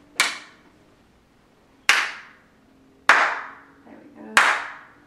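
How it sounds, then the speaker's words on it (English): Four separate sharp hand claps in a room, spaced over a few seconds, each crisp and followed by a ringing echo off the walls, with a brief murmur between the last two. "Even the little claps are nice and crisp and echoing around the walls."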